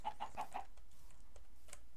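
Chickens clucking, with four quick, evenly spaced clucks close by in the first half-second, then only faint scattered noise.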